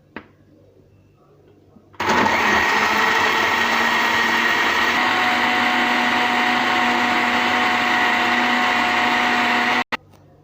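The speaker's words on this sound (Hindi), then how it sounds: "हिन खे असां हिन में ब्लेंडर में ब्लेंड कयूं था।" An electric blender starts abruptly and roars at a steady high whine for about eight seconds while blending a mango berry milkshake, then cuts off sharply.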